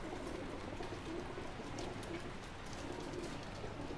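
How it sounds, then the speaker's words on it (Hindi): Pigeon cooing softly over steady background noise, with no clear wing flaps, after a pigeon is released at a pigeon market in Delhi. "कबूतर को उठान देख सकते हैं आप"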